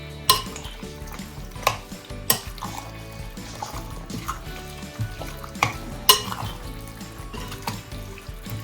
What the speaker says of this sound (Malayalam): പിന്നെ സോയാ സോസ് കുറച്ച്, നന്നായി മിക്സ് ആക്കണം